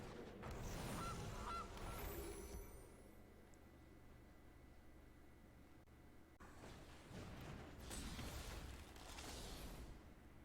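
A goose honks from the Goose card in the digital card game Magic: The Gathering Arena, two bursts of loud squawking honks, one at the start and another near the end, over a quieter game backdrop.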